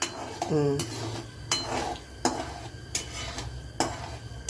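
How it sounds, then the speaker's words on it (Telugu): Cumin and mustard seeds fry in oil in a pan for Telugu-style lemon rice, with faint sizzling under a series of sharp metal clinks and scrapes from a spoon stirring against the pan. "కొంచెం జీలకర్ర ఆవాలు ఒక స్పూన్ ఆవాలు రెండు నిమిషాలు ఆగాలి"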